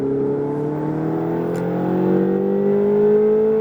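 A Ferrari at a driving session in Issoire accelerates, its engine note rising steadily and loud and close throughout with no talking.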